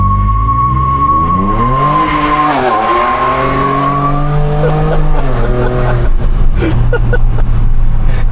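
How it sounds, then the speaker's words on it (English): A stock turbo Ford Ranger Raptor pickup truck squeals its tires while accelerating hard uphill, a loud, sustained tire screech over a rising, roaring engine note that keeps building across several seconds. "That just lit up the tires the whole way up there"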